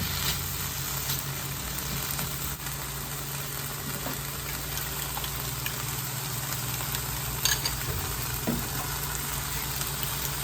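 Tomatoes being stirred into a steak fajita mixture in a frying pan, a soft continuous sizzle with faint stirring scrapes, fairly quiet and steady throughout, no voices.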